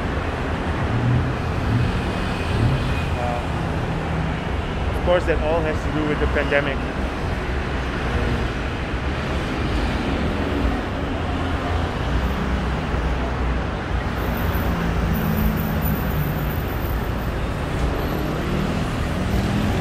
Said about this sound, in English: Actually today there's not so much traffic.